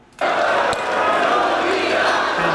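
Loud crowd roar breaks out suddenly after a brief quiet, sustained shouting from a rap battle audience chanting a name, with a sharp knock early on and a steady, dense wall of voices.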